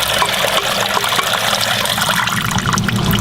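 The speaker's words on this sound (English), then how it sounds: "Jason, I'm hoping you can hear him with the water when the water was running" Water runs and splashes steadily into a water feature tank through an autofill float valve, a continuous rushing trickle close by with no talking.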